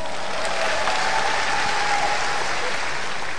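Audience applause at a televised stand-up comedy festival show, a steady dense wash of clapping that fills the whole moment without any talk over it.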